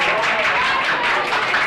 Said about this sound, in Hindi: चलिए जोरदार हो तालियां।